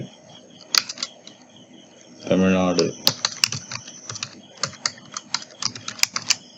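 Someone types on a computer keyboard while entering Tamil text into Photoshop 7.0 for a banner design, producing irregular close key clicks throughout, with a brief burst of voice in the middle.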